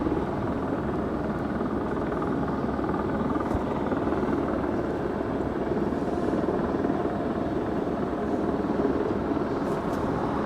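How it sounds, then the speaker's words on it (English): Airliner taxiing toward the Delta hangar at LAX, a steady loud engine drone with a broadband rumbling whine that holds unbroken and fairly close throughout, with no talk. "executives, all waiting for the plane to arrive right in front of the Delta hangar"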